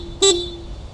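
A single short stock horn beep from a Honda ADV 160 scooter, bright and close, sounding once briefly before fading into quiet background hum.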